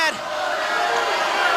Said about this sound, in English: The crowd's yelling that